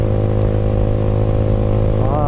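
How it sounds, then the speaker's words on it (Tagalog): Motorcycles riding ahead on a highway between Bicol and Manila, heard as a steady, close engine drone that holds an even level throughout, with no talking. "nakakasabay ka rin ng mga motor mangilan-ngilan ah ganyan nasa unahan natin mga motor"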